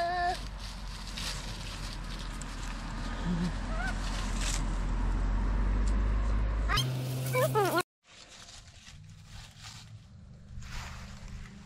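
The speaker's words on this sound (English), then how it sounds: "There's the kitty." Outdoor cat meowing a few times near passing cars, short rising calls heard amid background noise and people talking.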